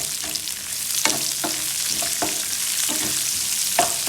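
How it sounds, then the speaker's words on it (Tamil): Onions and green chilies sauté in a pan with a continuous close sizzle and irregular scraping stirs of a spatula throughout, no voices. "வெங்காயத்தை போட்டுடலாம். போட்டு வதக்கலாம்."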